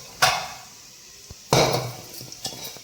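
Cheese ball batter mixed in a bowl, heard as two close bursts of clattering utensil-on-bowl scraping and clinks separated by a short pause, with a few softer taps between.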